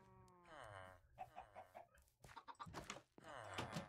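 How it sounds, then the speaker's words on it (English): Chickens in the Minecraft video game make a string of short, squawking clucks and warbling calls in bursts, close and fairly clear against a quiet background. "The chickens are making babies."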